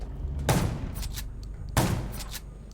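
Two loud gunshots, spaced about a second apart, ring out in the zombie-survival video game Undawn, each a sharp blast with a brief echoing tail over a steady ambient background.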